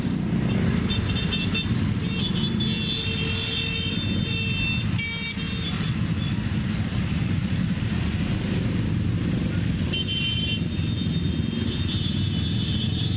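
Dense holiday traffic of homebound motorcycles packing the Serang–Tangerang arterial road toward the port on a Friday night, a continuous loud roar of many engines with a scattered horn toot, with no break throughout.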